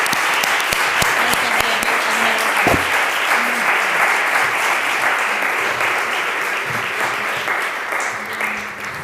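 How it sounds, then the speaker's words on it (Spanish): Warm, sustained audience applause at a literary talk in Pamplona, dense clapping filling the room loudly and evenly before slowly tapering toward the end. "le vamos a dar un aplauso grande"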